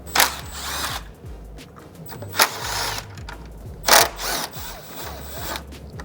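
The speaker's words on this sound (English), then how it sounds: "we're now gonna loosen the 3 10mm bolts that hold the intercooler on" Ratchet and power-driver bursts loosening the three 10mm bolts that hold the intercooler on a Porsche Cayenne, several short mechanical spurts of a few seconds each against a low idle-like rumble, close and fairly loud.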